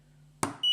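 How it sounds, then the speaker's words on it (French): An electronic buzzer on a small circuit sounds after a click, a sharp high-pitched tone that starts abruptly near the end and holds steady over a faint low hum. "Uniquement, c'est le buzzer"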